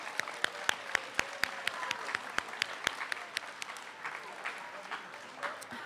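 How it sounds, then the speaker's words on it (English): An audience claps for a high school class at a grades 11 and 12 spoken word event, a thin run of sharp individual claps, loud early and then thinning out, with faint room murmur behind. "Okay, another round of applause for Mr. Schoenhall's class."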